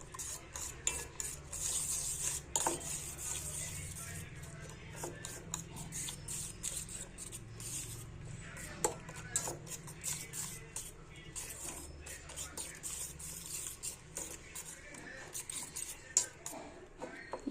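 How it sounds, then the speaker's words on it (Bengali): Chopped chilli and a little Kashmiri chilli powder are mixed in a bowl for an egg paratha filling, heard as repeated light clicking and tapping of a spoon against the bowl in an irregular rhythm, fairly close. "সবগুলোকে সুন্দর করে এখন মিশিয়ে নেব"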